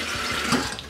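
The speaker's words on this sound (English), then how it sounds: "I'll just use the tap." Kitchen tap pours water into a saucepan, a short, steady rush of running liquid at moderate level, close and uninterrupted.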